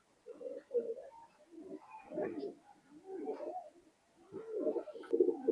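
Pakistani high flying pigeons in a loft coo softly in low, rolling, overlapping phrases, faint and continuous for a few seconds with no talking.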